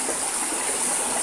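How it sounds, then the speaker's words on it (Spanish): The Majaceite river near El Bosque, Cádiz, flows in a steady, fairly loud rushing wash of water, continuous and close, heard on a night hike with no voices. "Y ahí vemos el río más aceite, como va fluyendo sus aguas"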